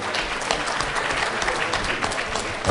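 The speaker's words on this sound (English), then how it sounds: "We should give them a big round of applause because they were great." Audience applause for a panel at an issue forum, a dense, sustained round of clapping from a sizeable crowd, steady and fairly loud throughout.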